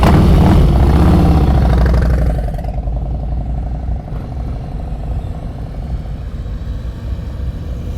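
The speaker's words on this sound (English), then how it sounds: "He popped that clutch and the bike stalled" A motorcycle engine at a slow-speed riding practice session runs loud and rough, then drops abruptly after about two seconds as the clutch is popped and the bike stalls, leaving a lower, steadier rumble behind.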